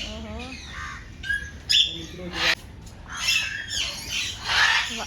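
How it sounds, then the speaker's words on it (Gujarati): Loud, harsh parrot squawks come in several bursts, bright and close, mixed with busy background chatter in Vadodara, Gujarat. "ઓહો પોપટ મસ્ત થઈ જુઓ ગાઈસ"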